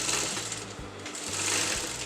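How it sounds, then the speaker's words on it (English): A sewing machine stitches salwar fabric in loud bursts of rapid needle thumping, stopping briefly and starting again several times, close and clear. "I'm going to stitch this together."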